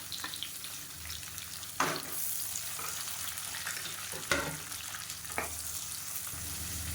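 Onions and mint sauté in hot oil with a steady close sizzle, punctuated by a few scraping stirs of a spoon in the pan, while tomato rice is being cooked.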